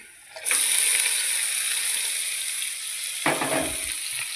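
Chopped winged beans and half an onion hit a hot pan and start a steady, loud sizzle that holds throughout, with a brief clatter of stirring near the end, up close and without speech.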